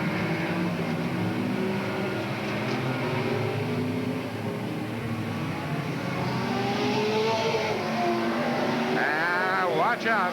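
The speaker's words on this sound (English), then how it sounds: "green flag, back out, cars on the track and racing" Oval short-track race cars back under green and racing: a dense, continuous roar of several engines at a steady distance, with a track announcer talking over the pack throughout.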